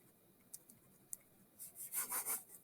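Pen scratching on paper while a number is written during a ratio-table math lesson, a few light taps then a short burst of quick rhythmic strokes, close and quiet with no talking.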